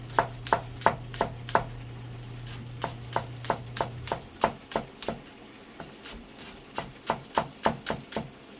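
A knife chopping onion on a cutting board, a steady series of sharp close knocks at a brisk, fairly even rhythm, with a low hum fading out midway and no talking.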